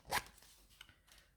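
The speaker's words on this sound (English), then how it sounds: "So what I do is I just cut off all that excess." Excess paper trimmed from a gel print, one quick crisp snip followed by a couple of faint rustles and small cuts, soft and close with no talking.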